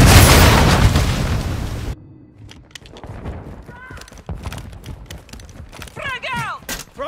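A loud, close grenade explosion in Call of Duty Modern Warfare 2 Team Deathmatch roars and rumbles before cutting off, followed by scattered pops, footsteps and a shouted voice.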